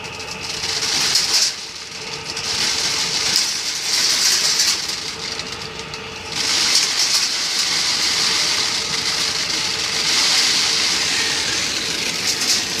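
A homemade grain winnowing machine runs steadily with a constant mechanical whir and hiss, loud and close, with brief dips in intensity partway through; no speech.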